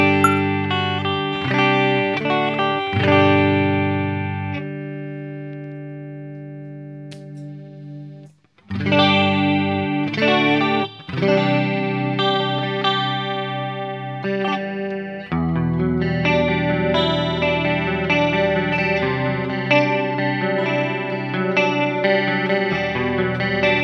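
A JOYO Future Chorus JF-316 pedal colours an electric guitar playing sustained chords and picked notes, with a shimmering, wavering chorus texture. The tone is loud and continuous, with a short pause near the middle, and no voices.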